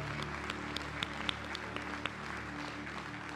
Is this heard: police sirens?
no